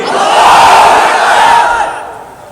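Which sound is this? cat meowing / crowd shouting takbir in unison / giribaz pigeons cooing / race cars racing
crowd shouting takbir in unison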